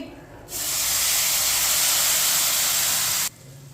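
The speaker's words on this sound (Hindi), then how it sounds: "2 प्याली पानी डालेंगे।" Water poured into a pan of roasting semolina halwa gives a loud, sudden burst of steady hissing that lasts about three seconds and then cuts off abruptly.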